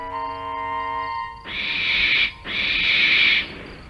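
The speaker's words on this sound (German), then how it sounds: "Es war nur eine Eule" An owl hoots twice at night in a children's animated train story, two long steady calls over a background music drone.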